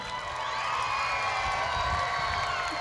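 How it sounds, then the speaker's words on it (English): Middle school students at a 2019 promotion ceremony cheering and whooping for their parents in a large crowd, loud, dense and steady throughout with shouts rising above the din. "I need you to look at your parents right now, and I need you to clap loudly for them."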